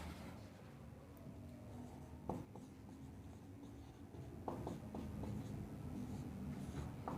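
Chalk or pen scratching steadily on a board during a Hindi physics lesson on potential difference, with a few sharper taps among the continuous faint writing, no talking.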